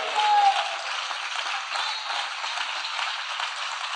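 A church congregation applauds steadily and briskly throughout, a dense wash of many hands clapping at once with little variation.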